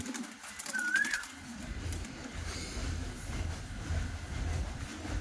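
Giribaz pigeons coo softly in a loft, low murmuring calls over a steady background rumble, with a brief higher whistle early on.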